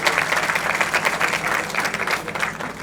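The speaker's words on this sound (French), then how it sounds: "Les applaudissements, s'il vous plaît." Audience applause at the Miss Burundi 2025 pageant, greeting the First Lady of Burundi; loud, dense clapping from a large crowd, steady throughout with no voices over it.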